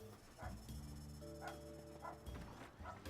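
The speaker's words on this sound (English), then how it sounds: "Somebody's dog started barking outside, that's fun." A neighbour's dog barks outside, heard faintly through a window as a few spaced, muffled yaps over a low steady electrical hum indoors.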